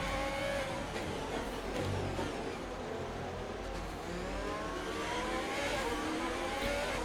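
An Aston Martin Formula 1 car races in the F1 2020 video game, its engine a continuous high whine that rises and falls through gear changes, steady and moderately loud with no voice over it.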